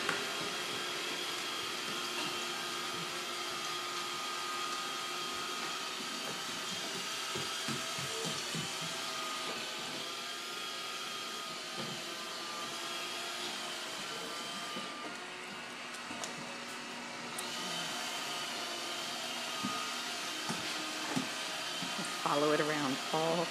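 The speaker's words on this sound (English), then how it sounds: "just like Uncle Adam, loves the vacuum cleaner" A vacuum cleaner whirs continuously at close range, a steady motor drone with faint knocks and shifts in pitch as it moves around.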